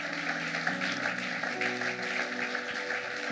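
A church congregation claps and cheers for a few seconds during a sermon on Passover, a dense, loud wash of applause with voices and a sustained musical tone underneath.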